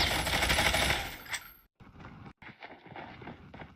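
Gunfire in the mobile battle royale game Call of Duty Mobile: a dense, loud burst of rapid shots, a brief pause, then scattered lighter shots and movement sounds, with no talking.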